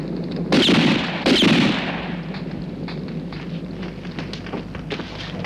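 Two loud gunshots crack close together near the start of a spaghetti western scene, each followed by a decaying rumble, then a lower steady background continues with no talking.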